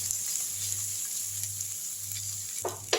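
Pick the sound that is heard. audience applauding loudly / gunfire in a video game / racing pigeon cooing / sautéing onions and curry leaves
sautéing onions and curry leaves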